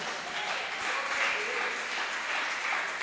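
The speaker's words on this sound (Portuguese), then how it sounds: "Você pode aplaudir ao Senhor Jesus?" Steady applause from a church congregation fills the whole stretch, a dense even wash of clapping with no pauses and a few voices mixed in.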